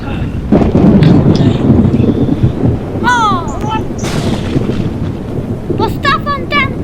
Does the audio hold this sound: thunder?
yes